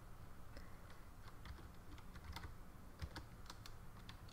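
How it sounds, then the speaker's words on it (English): Quiet, irregular keystrokes on a computer keyboard while designing a Fortnite-inspired birthday llama loot card, soft clicks scattered through a low room hum with no talking. "I'm having trouble typing today."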